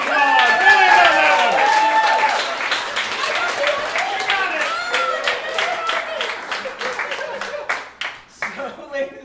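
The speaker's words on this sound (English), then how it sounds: "Give her a big round of applause." Audience applause at an improv comedy show, a dense wash of clapping that starts loud and gradually thins into scattered claps, with a voice talking over it throughout.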